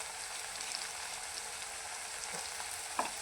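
Onion, garlic, chili and turmeric sauté in a pan with a soft, steady sizzling hiss throughout and a faint clink near the end, quiet, with no talking.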